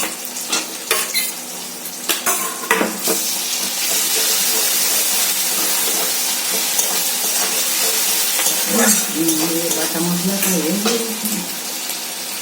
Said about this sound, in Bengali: রসুনটা এই পেঁয়াজের সাথে রসুনটাকেও ভেজে নেবো একটু ভালো করে